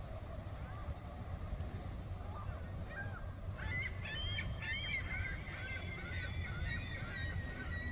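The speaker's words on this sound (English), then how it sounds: "Come on, seagulls, jump off there so we can hear that squeal again." Several high, squealing seagull cries rise over a steady low engine rumble, with a few distant honking calls mixed in.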